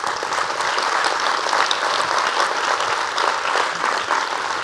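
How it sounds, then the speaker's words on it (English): Conference attendees at a TV industry event break into a sustained round of applause, a thick, continuous patter of many hands clapping close by with no talk over it. "So please give everyone a round of applause."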